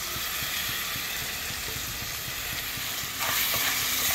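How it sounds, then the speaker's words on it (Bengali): A pan fries with soy sauce added, giving off a dense, continuous hiss and crackle close by. The sizzle swells louder near the end, and no one speaks. "ধুনকৈ ভাজি ল'ম"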